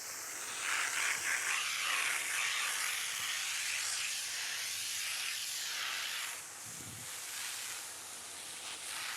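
Water spraying steadily from a pressure washer alternative onto a dirty sidewalk, a continuous close hiss that drops briefly near the end before resuming.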